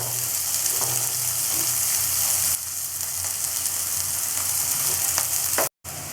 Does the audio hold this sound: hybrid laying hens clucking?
no